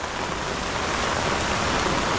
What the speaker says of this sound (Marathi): पावसाच्या थेंबांचा टप टप टप टप येणारा आवाज वाहता पाण्याचा खळखळाट